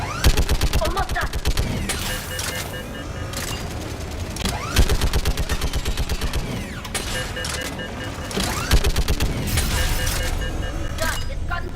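Rapid, sustained gunfire in the Mass Effect 3 video game, dense automatic bursts and repeated sharp shots filling the whole stretch loudly, with voices talking underneath the battle.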